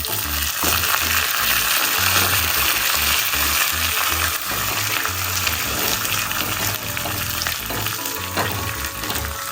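Curry leaves dropped into a pan of frying onions and chillies for chutney crackle and sizzle loudly and steadily, with stirring and a running tap heard faintly throughout.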